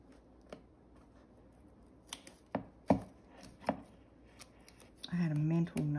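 Clear tape is pulled from a roll and pressed onto a handmade paper wallet card, giving a few sharp crackling snaps and rips, then a louder burst of tape unrolling near the end, close and alone.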